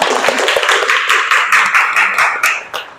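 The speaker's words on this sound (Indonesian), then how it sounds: "tepuk tangan buat Neng Hana" Brief scattered clapping from a small group in a classroom, a dozen or so uneven claps that thin out over three seconds.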